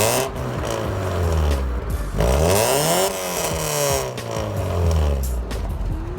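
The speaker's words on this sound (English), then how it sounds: "Here's what it sounded like with just the Focus ST muffler." A Mazda Miata engine revs repeatedly through a raspy Ford Focus ST muffler, rising and falling in loud, buzzy sweeps, recorded close with no talking.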